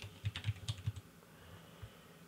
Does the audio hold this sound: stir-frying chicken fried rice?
no